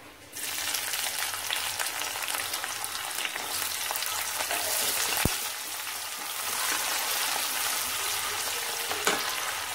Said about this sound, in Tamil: இது நல்லா வெங்காயம் வதங்கட்டும்